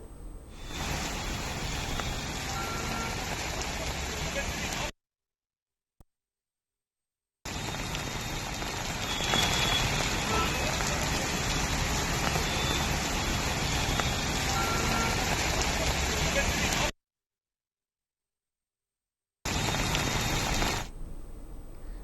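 Heavy rain in Hyderabad pours in a dense, even hiss for long stretches, broken by abrupt cuts to silence, with no speech.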